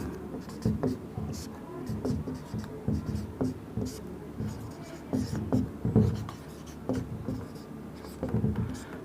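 A pen scratching out a written math solution on paper, close and steady with many short irregular strokes, while someone talks throughout.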